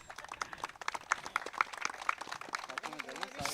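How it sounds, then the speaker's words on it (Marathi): A crowd claps in dense, brisk applause at a prize ceremony for a cricket match, with a voice speaking briefly near the end. "जोरदार टाळ्या वाजवायच्या आहेत"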